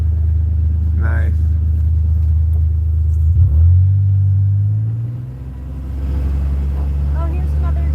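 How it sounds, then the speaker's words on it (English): A truck rolls past on a remote road through green hills, a loud low engine rumble swelling as it nears around the midpoint, then fading into steady drive noise while a person talks over it. "Oh, here's another truck."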